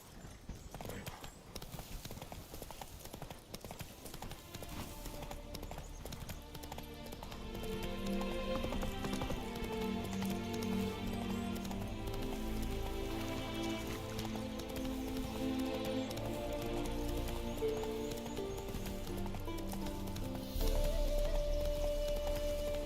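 A horse's hooves gallop in The Witcher 3, a rapid, steady clip-clop close by that grows louder partway through, with game music and ambience layered beneath.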